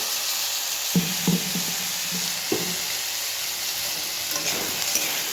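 A steady, bright sizzle of vegetables frying for shukto as cashew and poppy seed paste is stirred in, with a handful of sharp spatula knocks against the pan; close and even, no talking.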